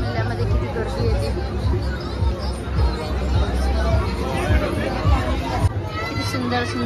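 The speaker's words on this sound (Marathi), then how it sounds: "पाहू शकता मेल्यामध्ये किती गर्दी येते" A dense crowd mills through the stalls of the Kandivali fair in Mumbai. Continuous overlapping chatter and babble, with footsteps and movement, stays loud and close throughout.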